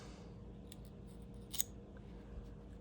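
A blade snips off the loose line ends on a stinger hook for crab and squid decoy jigs, giving a couple of faint, crisp cuts close by over a quiet hiss.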